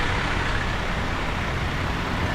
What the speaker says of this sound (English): And loud, very loud cars.